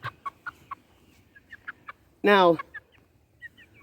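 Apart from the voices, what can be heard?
chicken clucking while being handled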